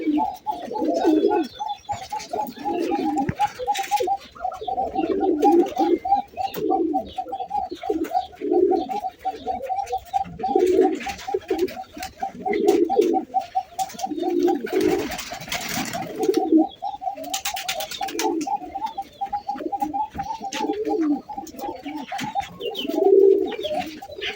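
Pigeons from a fancy pigeon show coo continuously in repeated rhythmic bursts, close and fairly loud, with occasional chirps and wing flutters mixed in and no talking.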